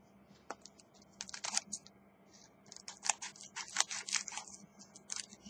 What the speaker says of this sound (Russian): Короче, я ножницы возьму